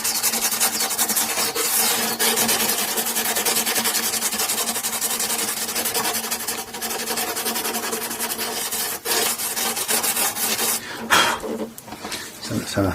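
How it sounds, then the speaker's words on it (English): A file scrapes overhanging burrs off the frets of a Japanese-made Daion Gazelle acoustic guitar during a refret, making close, repeated rasping strokes that continue with brief pauses. "I can just use that process to take care of any small overhanging burrs on the frets themselves"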